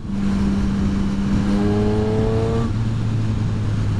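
A loud motorcycle engine revs up steadily, its pitch climbing over a few seconds, then drops back and holds a rough, continuous idle.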